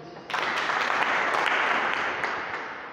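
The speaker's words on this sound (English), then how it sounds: "Clap for the girl." A classroom of students claps for a girl during a geography lesson, with dense, steady applause that starts abruptly and continues for a few seconds before fading slightly.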